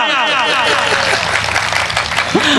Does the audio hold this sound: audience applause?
yes